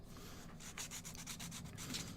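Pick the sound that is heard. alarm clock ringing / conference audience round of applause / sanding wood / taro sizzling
sanding wood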